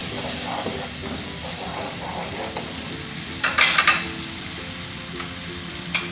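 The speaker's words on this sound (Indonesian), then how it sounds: "diaduk-aduk sampai mateng dan" Food fries in a pan with a steady sizzle and hiss while it is stirred, and a short burst of louder scraping and spattering comes partway through. No voices are heard.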